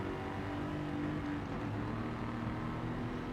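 A Jaguar F-Type R race car in Gran Turismo 7, racing the Tokyo Expressway, drops into second gear under a tunnel, its engine a steady close growl with rising and falling harmonic tones and no voices over it.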